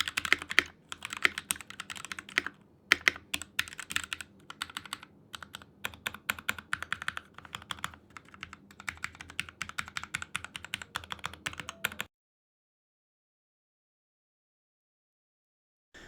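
Typing on a quiet computer keyboard: dense, rapid key clicks in irregular bursts for about twelve seconds, close and fairly soft, then silence.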